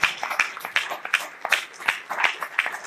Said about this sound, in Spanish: Tres fuertes palmas a Dios